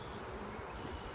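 Honeybees in a crowded hive about to swarm, a dense steady buzz filling the air close by and unbroken for the whole moment, with no voices over it.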